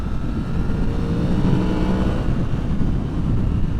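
A 2023 Yamaha MT10 with a Leo Vinci exhaust, engine note held as a loud, continuous low rumble with a gritty, steady drone and slight rise in the middle, close by.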